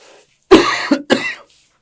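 Two sharp, close coughs in quick succession, the second following about half a second after the first, in an otherwise quiet room.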